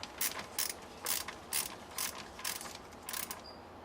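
A ratchet tightens car intake manifold bolts in quick, even bursts of clicking, about seven pulls, close and fairly faint, with no talking.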